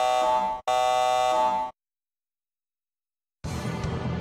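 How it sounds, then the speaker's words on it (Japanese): In Star Ocean First Departure, an alarm-system buzzer sounds in two loud, harsh tones separated by a tiny gap, then cuts to silence before a different, lower sound starts. "警告、警報装置を作動させます。"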